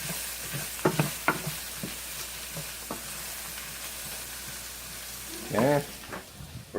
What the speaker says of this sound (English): And then we're going to stir that around.